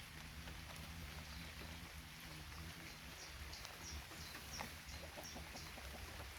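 Chickens cluck softly at a distance over a steady background hiss resembling light rain, with a few faint scattered peeps and no speech.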